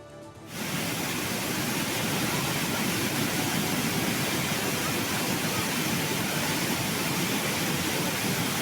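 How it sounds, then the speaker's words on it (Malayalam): After a brief quiet moment, the Athirappilly waterfall roars as it overflows after heavy rain. The rushing water is loud, steady and continuous. "നിറഞ്ഞൊഴുകി അതിരപ്പള്ളി വെള്ളച്ചാട്ടം"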